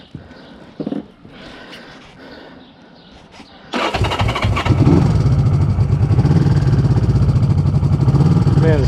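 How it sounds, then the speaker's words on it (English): A vintage motorcycle is kicked over after a few faint clicks and knocks, then its engine catches and settles into a loud, steady, close idle. "Man, this bike always starts."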